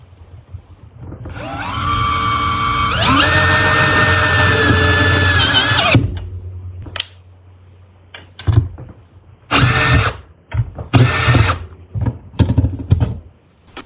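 A Makita DDF083 cordless drill whines steadily for several seconds, then stops, followed by a series of short bursts and bumps as metal screws are driven.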